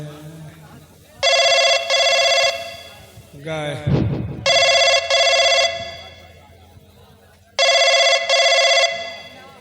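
A telephone bell rings loud and close in three separate bursts, each a quick double ring, with a voice speaking in the gaps between them.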